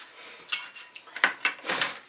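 Paint being scraped off a spatula blade with acrylics in an art studio: a few quiet, short scratchy scrapes and light metallic ticks, close and soft.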